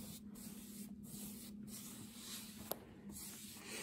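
A sealant coat is sprayed onto a painted ranch sign in four or five short, even hissing bursts with brief pauses between them, close and moderately loud over faint background hum, with one small click partway through.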